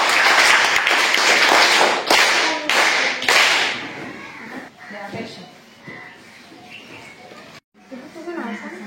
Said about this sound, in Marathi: त्यासाठी सगळ्यांनी टाळ्या वाजवायच्या आहेत